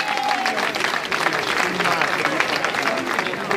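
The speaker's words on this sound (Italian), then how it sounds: "Un applauso." Crowd applause rises at an outdoor protest rally in Ravanusa against the Girgenti Acque water company, a continuous wash of many hands clapping at moderate distance, with faint voices underneath.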